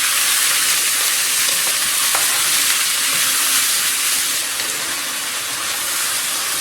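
Diced leftover steak sizzles steadily in a hot pan while browning, a loud continuous hiss and crackle with no talking.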